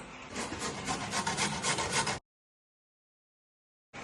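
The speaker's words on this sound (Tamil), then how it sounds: "அதுக்கு அடுத்து நம்ம பீட்ரூட்டையும் துருவிக்கலாம்" Beetroot rubbed against a hand grater in continuous quick rasping strokes for about two seconds, close and fairly loud, then a sudden break into silence.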